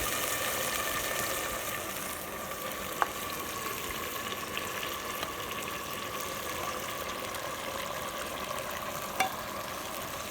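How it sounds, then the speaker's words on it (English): Oil and spices fry in a clay pot over a village cooking fire, a steady close sizzle running throughout, broken by two faint clicks from the stirring utensil. "So now we're going to stir it one more time, and we will add okra to it."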